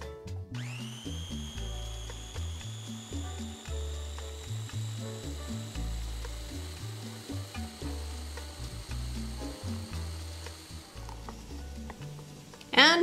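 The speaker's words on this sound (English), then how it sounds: "Apparently I love this little ninja chopper. And now we're gonna blend." A small Ninja chopper blends tomatillo salsa verde, a loud steady motor whine with pulsing, chunky grinding underneath, running for several seconds before stopping.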